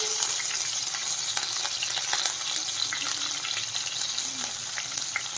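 Curry leaves, chopped spring onion and two or three cut green chillies sizzle steadily in hot oil, a dense continuous frying crackle with no talking over it.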